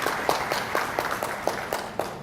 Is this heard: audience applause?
yes